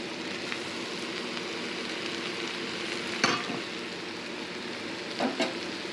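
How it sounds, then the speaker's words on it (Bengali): Salted, marinated shrimp frying in a pan for a spiny gourd dish, giving a steady close sizzle throughout with a few brief sharper crackles and stirring clatters near the middle and end; no talking. "এর মধ্যে দিয়ে দিচ্ছি আমার নুন মাখানো চিংড়ি মাছগুলোকে"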